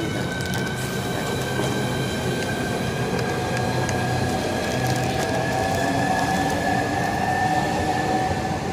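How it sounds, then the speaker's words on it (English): A Southeastern Class 395 high-speed train pulls away from Ebbsfleet International station, a steady rolling rumble with high electric whine tones that slowly shift in pitch as it accelerates, close and continuous with no talk. "And now getting ready to depart is 395019."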